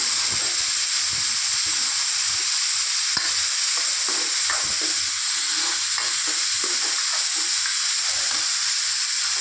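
Fried onions and chopped tomato being stirred in a pan make a loud, continuous sizzle, with repeated scraping strokes of the stirring utensil running through it close up.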